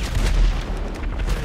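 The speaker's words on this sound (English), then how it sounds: "Not even shooting at anything in particular." Gunfire in GTA 5 Online, loud and continuous with dense booming low end and overlapping shots throughout, no speech.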